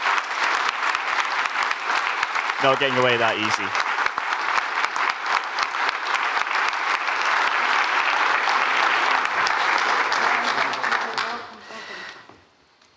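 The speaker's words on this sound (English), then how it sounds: "If they could get a massive round of applause." An awards-ceremony audience gives a long, loud round of applause that stays dense and even for about eleven seconds, then fades out, with a brief voice speaking over it early on.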